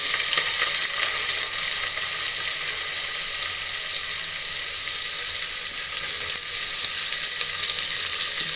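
Garlic, dried red chilies, curry leaves and onion fry in hot oil for a lentil-greens stew, a steady close sizzle and crackle with no voices.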